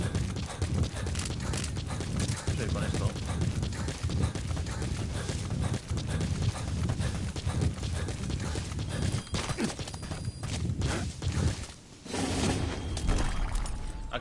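Horse hooves clip-clopping in the video game Metal Gear Solid V: The Phantom Pain, a steady trotting patter running under dense game sound with someone talking over it.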